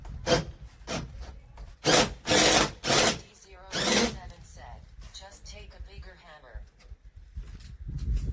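A power drill whines in several short bursts, grinding into wood, with a voice talking quietly between the runs.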